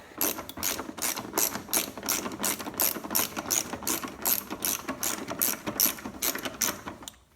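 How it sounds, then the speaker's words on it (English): A ratchet wrench clicks rapidly and steadily in repeated bursts while removing 10 mm bolts from the bumper of a 2010 Hyundai Accent, loud and close with no talking. "Now there's a bolt here and a bolt here you have to remove. And these are 10 mil."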